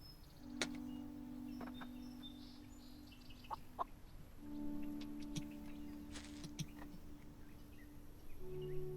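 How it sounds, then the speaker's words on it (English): A chicken in the Solarpunk game clucks in short, close repeated calls with some long drawn notes, over a soft steady ambient drone, with no talk. "This is a very unsatisfied chicken"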